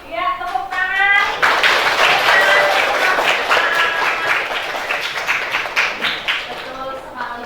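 Classroom applause from a group of students, a sustained burst of clapping lasting several seconds with a teacher's voice heard before and near the end.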